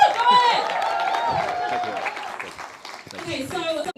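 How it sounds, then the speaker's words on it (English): Conference audience giving a round of applause to a speaker at a 2020 event, brief clapping and cheering mixed with a voice talking over it. "Big round of applause for Claudine"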